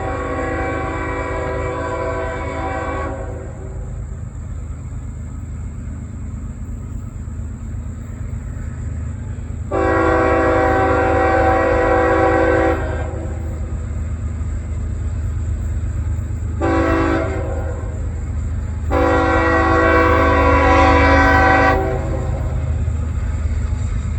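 A westbound CSX mixed freight train rumbles past close by, its horn sounding in three long blasts over a steady, continuous roar of wheels and cars.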